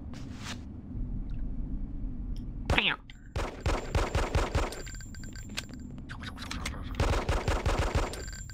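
Gunfire at a shooting range in Hitman: Codename 47 comes in bursts of rapid, close shots, pausing briefly and then resuming as rattling volleys.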